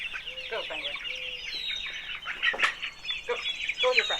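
A flock of chickens clucks and squawks busily inside a chicken house, the calls overlapping densely and close, with some wing flapping and a voice faintly mixed in.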